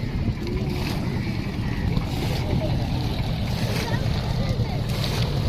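Small boats that ferry people to a watch tower in Uttar Taherpur village, Sunamganj, heard as a steady engine rumble mixed with wind and water noise, running without a break and with no clear talking.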